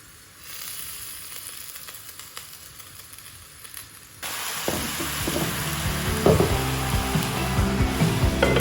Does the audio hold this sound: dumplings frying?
yes